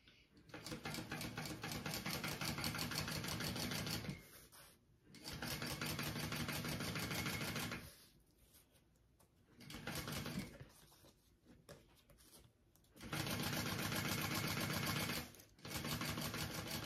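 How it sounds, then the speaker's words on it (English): A sewing machine stitches a 3/8 inch seam on a small fold-and-zip backpack, running in steady rapid bursts of about four seconds with short pauses between, close and clear with no talking. "I'm going to sew that on at my 3/8 inch seam allowance that I marked on my piece"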